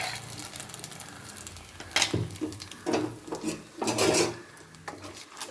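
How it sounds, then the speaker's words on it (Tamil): Coconut milk being stirred continuously in a pan for a sweet coconut milk dish, with a spoon scraping and clinking against the pan in a few close, irregular strokes. "ஊற்றிட்டு கைவிடாமல் கிண்டணும்."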